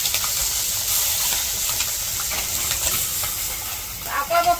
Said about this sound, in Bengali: এখন এই যে পুঁটি মাছটিও ভাইজা নিতেছি।